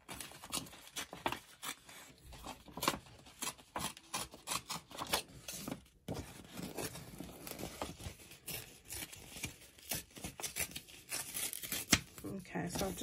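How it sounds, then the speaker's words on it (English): Paper torn out in an oval shape for a handmade journal pocket, giving irregular bursts of close tearing and crinkling with small pauses, under soft background talk. "I want to just tear out a bit of an oval over there"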